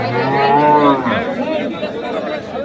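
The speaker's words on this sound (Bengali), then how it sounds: "এখানে একটি মাংসের গরু দেখছি" A beef bull at Ranibandar cattle market in Dinajpur lets out a loud, close, drawn-out moo that tapers off, with faint crowd chatter behind it.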